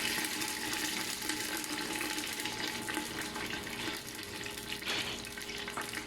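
Onion frying in melted butter over very low heat, a steady soft sizzle with a light watery crackle that carries on without a break and no voices.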